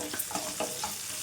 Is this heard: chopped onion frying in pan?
yes